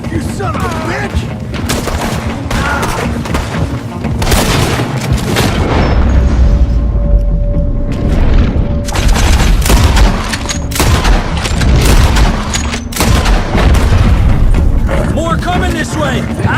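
Gunfire in the Red Dead Redemption 2 game fills the scene as a dense, loud barrage of overlapping shots and booms, with shouting voices mixed in and under the fighting.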